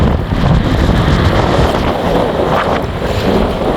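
Strong wind at sea roars steadily across the microphone, a dense continuous rush with water noise from rough waves beneath it, and no voices.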